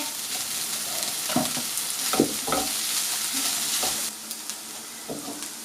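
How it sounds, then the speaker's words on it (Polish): Sausage, bacon, onion and garlic fry in a pan, a constant bright sizzle broken by several scraping stirs of a utensil, with no talking. "I podsmażamy jeszcze chwilkę."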